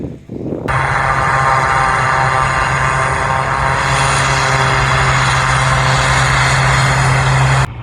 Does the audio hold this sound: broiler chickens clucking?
no